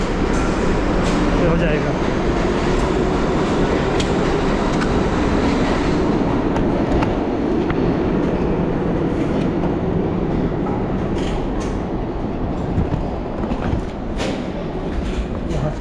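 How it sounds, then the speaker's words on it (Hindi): A New York subway train running in Brooklyn, a loud continuous rumble and rattle of the cars heard from on board, with someone talking briefly over the noise. "मुझे ट्रेन बोर्ड करनी पड़ेगी दोबारा से"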